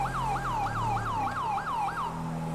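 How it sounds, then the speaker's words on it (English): A loud, fast wailing police car siren in a video game (GTA 5), cycling up and down in quick repeated sweeps, with a low engine drone underneath. "Turn off my siren."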